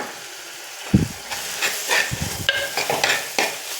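Ground green and red chilli paste with whole black peppercorns frying for rasam, stirred briefly: a few close scraping strokes and hissing sizzle bursts in quick succession over a quiet background.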